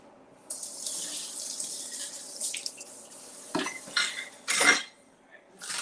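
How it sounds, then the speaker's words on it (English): Tap water runs into a kitchen sink while dishes and cutlery are rinsed, with clinks and clatters of utensils and pans and bursts of splashing over a steady faint stream. "Let me rinse this off."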